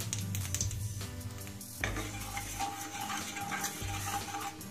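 Nigella seeds tempered in the leftover hot oil from frying tengra fish give a steady crackling sizzle, with faint utensil clinks and a tonal hum underneath.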